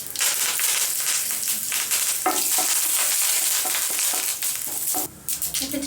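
Mustard seeds, crushed pepper and cumin crackle and sizzle in hot oil, a dense steady spitting with sharp pops and stirring scrapes, loud and close, ending with a brief drop.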